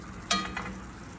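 Honey garlic salmon cooking in a hot pan: a sharp sizzling burst and a couple of stirring scrapes, then a soft steady fry, close and moderately quiet.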